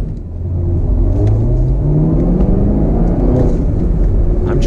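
A 2019 Chevrolet Camaro ZL1 1LE engine roars loud and close, its pitch climbing and dropping through successive gear shifts under hard acceleration.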